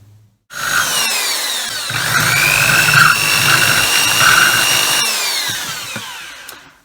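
A large power drill cuts through a plastic GoPro housing, a steady high whining grind lasting several seconds after a quiet start, close and loud, with no talk.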